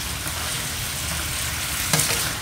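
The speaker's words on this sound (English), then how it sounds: "You can really tell even in this video about exactly how fast this shrimp's cooking" Shrimp stir-frying in a pan over high heat with extra ingredients, a loud, steady, close sizzle and crackle, broken near the end by a brief stir or scrape, with no voices.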